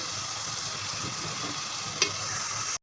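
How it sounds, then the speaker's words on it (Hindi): Chopped onions sizzle steadily in hot oil as they are stirred in a pan, with one sharp scrape of the spoon near the end before the sound cuts off. "और प्याज को ऑयल में अच्छे से मिक्स कर लूँगी।"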